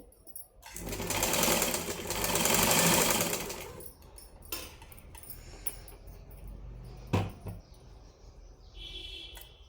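A sewing machine stitches the round neckline of a lined blouse in one close, rapid burst of about three seconds, followed by quieter handling clicks and faint rustling.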